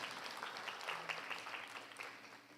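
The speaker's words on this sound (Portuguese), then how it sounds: "dá um aplauso para o missionário" A church congregation gives a brief round of applause for a missionary, faint and somewhat distant clapping spread across a couple of seconds.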